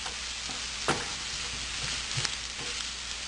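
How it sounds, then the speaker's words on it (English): Chopped onion frying in a pan for kadai chicken, a steady hissing sizzle with a couple of faint spatula scrapes, close and unaccompanied by speech. "stirring"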